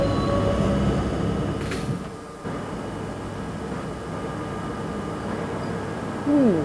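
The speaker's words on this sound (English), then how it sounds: "R244E on the C train." R244E subway train running on the New York C line near 157th Street, a loud continuous rumble of wheels and car body with a brief high hiss, ending with rising squeals of wheels.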